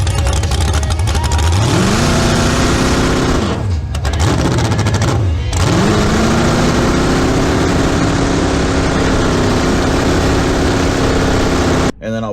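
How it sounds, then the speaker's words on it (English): A Chevrolet El Camino engine on a dyno revs hard and loud, rising and falling in pitch with stuttering stumbles and sharp breaks, sustaining a high roar before cutting off abruptly at the end. "I'll show you that stumble that the car has right as you like mash the gas"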